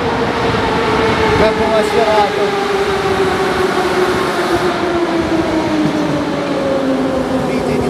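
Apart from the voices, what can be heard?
Moscow metro train arriving at station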